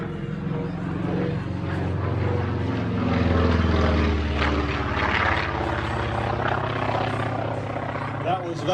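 A Grumman Wildcat propeller fighter banks through a tight turn at a military aviation air show in Virginia Beach. Its engine drones loud and steady, swelling slightly mid-pass, while a voice talks over it.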